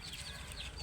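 A hen clucks softly near her newly hatched chicks, brief low murmuring calls close by with faint high peeping and no talking.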